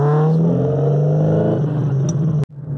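Ferrari Dino 308 GT4 engine revving above 3000 RPM, a loud close mechanical drone with rising and falling harmonic tones, ending in a brief sharp click then continuing quieter.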